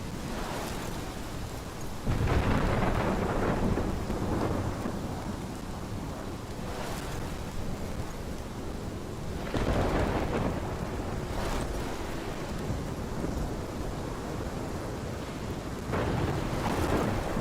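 A thunderstorm in the video game Life is Strange: steady rain with heavy, broad rumbles of thunder rolling in at intervals, loud and close, with no voices.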